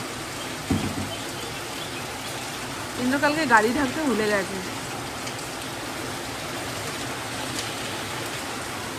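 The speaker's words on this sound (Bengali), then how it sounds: "দাঁড়ান চতুর্দিক থেকে একবার দেখিয়ে নিই কত জোরে বৃষ্টিটা হচ্ছে" Heavy rain falls steadily in a constant broadband hiss, with someone speaking briefly over it.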